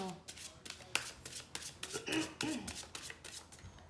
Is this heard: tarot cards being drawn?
yes